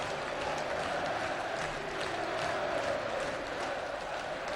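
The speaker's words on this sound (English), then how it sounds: "The drummer goes wild, as do the rest of the crowd inside Pride Park." Derby County supporters roar and applaud steadily inside Pride Park during a 2007 match against Colchester United, a dense, continuous crowd wash heard from a distance.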